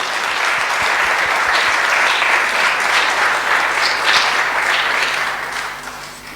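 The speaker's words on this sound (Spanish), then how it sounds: "voy a pedirles que recibamos con un fuerte aplauso a nuestra expositora Ingrid Eliana Orlandini González" An audience at an international bicentennial conference breaks into sustained, dense applause to welcome a speaker to the stage, steady and loud for several seconds before starting to thin out near the end.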